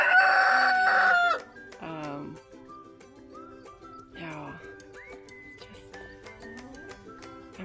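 Backyard chickens calling on a sunny day, a loud rooster-like crow opening, then scattered clucks and calls at moderate distance with chirping birds in the background.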